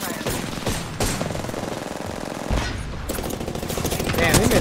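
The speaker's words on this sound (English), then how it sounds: "Man, they missed all their shots." Sustained automatic gunfire from enemies in an Apex Legends match, loud and dense with rapid bursts running almost continuously, briefly dropping off twice before resuming.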